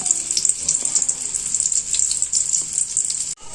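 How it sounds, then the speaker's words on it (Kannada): Tupparikayi bonda bubble and sizzle steadily in hot oil, a bright continuous frying hiss close up that cuts off briefly at the end. "ಈಗ ಮತ್ತೆ ನಾನು ಎಣ್ಣೆಯಲ್ಲಿ ಬಿಟ್ಟಿದ್ದೇನೆ."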